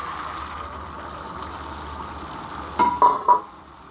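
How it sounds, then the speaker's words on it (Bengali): Hot milk goes into frying chicken rezala in a pan, giving a steady low sizzle with a few brief, louder splashy bursts near the end; no one speaks. "এখন আমি গরম দুধটা দিয়ে দেবো।"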